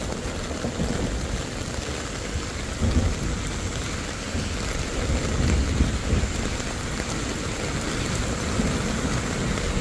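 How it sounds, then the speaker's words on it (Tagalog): Heavy rain pours steadily onto surfaces outdoors, loud and dense, with low rumbles of thunder rolling in around the middle of the downpour and no voices. "Sobrang lakas ng ulan"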